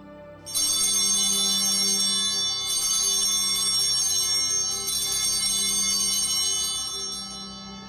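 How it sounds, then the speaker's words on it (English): Altar bells ring out during the Eucharistic prayer at Mass, a bright, sustained metallic jangle in several shaken bursts that fill the space, loud and with no talking. "The cross-bearer rings the bells during the Eucharistic prayer."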